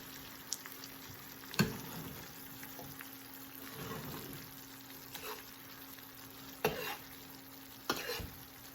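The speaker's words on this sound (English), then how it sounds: "Let it simmer for about maybe 3 or 4 minutes" Sauce with cinnamon for a crown pork roast simmering in a pan on low heat, a quiet steady sizzle with a few soft clinks and stirring bumps spread across the clip.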